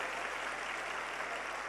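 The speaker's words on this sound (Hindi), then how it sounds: "तालियां बजाकर उनका अभिनंदन करें।" A seated audience at a live Shiv Mahapuran katha in Sehore claps steadily to welcome the Shankaracharya, a dense, even wash of applause with no break.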